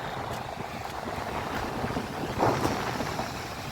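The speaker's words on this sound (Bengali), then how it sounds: "এই দেখুন, এই নৌকা করে আসছে" A fishing boat's low engine drone rumbles as it approaches the sea shore at Kalpakkam, Tamil Nadu, under steady wind buffeting the microphone, with faint water and distant open-air noise.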